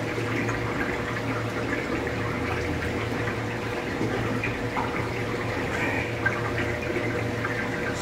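Water in stingray aquarium tanks during a transfer of albino black diamond and super white rays, heard as a steady, continuous rush of running, splashing water that stays even throughout.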